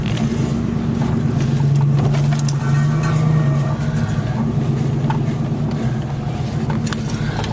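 Car engine idling at a scrapyard, a steady low rumble holding close and loud throughout with a faint rattle on top.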